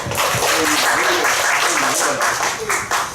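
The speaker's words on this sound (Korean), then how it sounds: "예배 드리기 앞서서 우리 박수 한번 치고 시작했으면 좋겠습니다." A church congregation claps together before an afternoon worship service, a dense, steady wash of applause filling the room from start to finish while a voice speaks faintly underneath.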